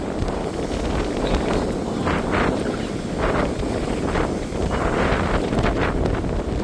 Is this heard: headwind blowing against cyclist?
yes